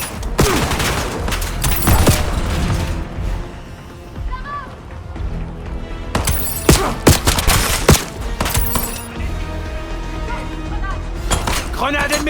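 Heavy gunfire in a war action battle: repeated loud bursts and sharp shots with thuds and crashes, continuing through the stretch over a dense, chaotic background of combat noise.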